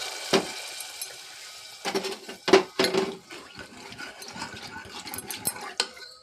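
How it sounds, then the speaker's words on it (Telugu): A spoon scrapes and clatters in a pot as drumstick pieces and dried prawns with chilli powder, salt and water are stirred together, giving sporadic close knocks and scrapes with quiet gaps between. "అటు ఇటు కలిపేసుకొని"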